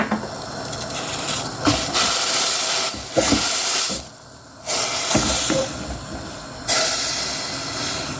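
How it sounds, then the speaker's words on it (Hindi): Steady hissing and bubbling roar of water at a rolling boil in a pot for tea, continuous with a few brief dips, close by. "अभी चूँकि पानी को उबाल आ गया है"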